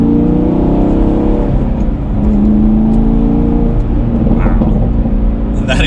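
A 2019 Chevrolet Camaro SS 1LE V8 exhaust drones loudly from inside the cabin as the car accelerates, a steady low rumble with a brief dip, and a few crackles near the end.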